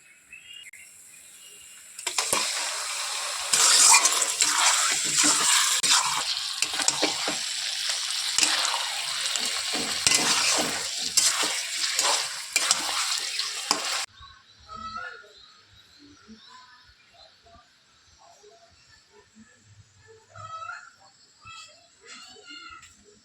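Mutton pieces hit hot spiced oil in a pan and are stirred, giving a loud, hissing sizzle with scraping that runs for about twelve seconds before cutting to a much quieter, sparse kitchen background.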